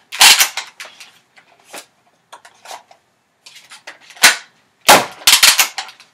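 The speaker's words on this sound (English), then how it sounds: "I'm just standing close so you guys can see how I load and fire it." Nerf ZombieStrike Ionfire blaster loaded and fired up close: sharp plastic snaps and clacks of the priming handle, then several loud bursts of the spring-powered shot, in irregular clusters separated by quiet.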